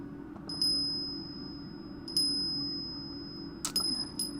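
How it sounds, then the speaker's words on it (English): A small decorative bell rings three times, each strike a clear bright ding that decays slowly, the last one a quicker double shake, close by in a quiet room. "And so I found this beautiful bell."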